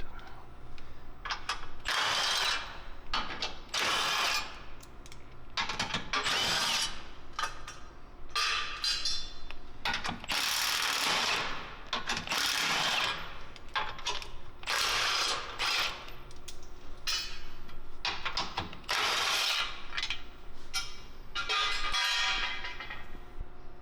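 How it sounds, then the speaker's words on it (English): Ratchet wrench and power tool work loosening 17mm head bolts from the skid plate braces on a Toyota Tacoma, with repeated bursts of ratcheting clicks and drill whirring, fairly close and steady throughout without speech. "We'll be removing the 7 17mm head bolts, and we'll be reusing 4 of them to mount up the new skid plate."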